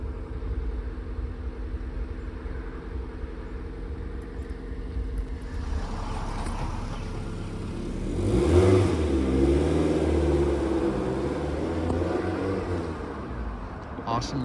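A Toyota MR2 with just over 20,000 miles runs with a steady mid-pitched hum, then swells into a louder rev before it settles again, with voices talking over the engine sound.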